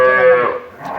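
A dairy cow, part of a herd sold for milk, gives a single loud, sustained moo that starts strong and tapers off near the end, close to the listener with no talking.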